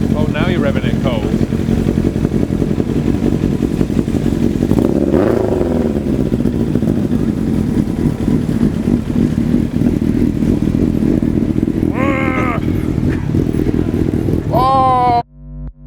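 A Kawasaki ZX-7R or Suzuki SRAD sportbike engine revving while still cold on a dyno, a loud, continuous engine roar with voices talking over it before cutting off abruptly near the end.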